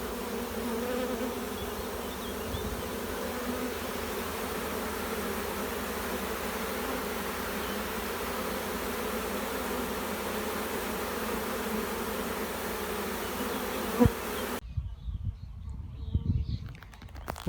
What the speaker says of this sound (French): Les gentilles abeilles là, vont rentrer.